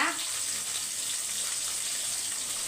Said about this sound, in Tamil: கொஞ்சமாக தண்ணி சேர்த்துக்கோங்க